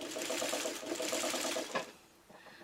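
A sewing machine runs close up with a 1/4 inch foot, its rapid, even stitching hum lasting almost two seconds before a click and a quieter, uneven tail.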